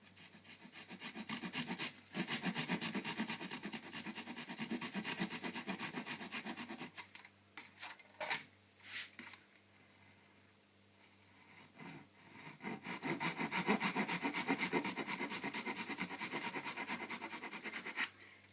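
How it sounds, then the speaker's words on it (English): A hand saw cuts wooden bracing bars glued to a classical guitar back, giving steady raspy back-and-forth strokes close up, pausing briefly midway before resuming with brisk, even sawing. "So when I'm cutting these bars, I like going all the way down to the point that I know that I'm actually scratching the back"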